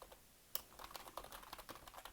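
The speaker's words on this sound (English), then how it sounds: "Sorry if you hear me typing." Fingers type on a computer keyboard during a home papercrafting session. Faint, irregular clicks come in uneven bursts, with one sharper keystroke standing out, and no voices.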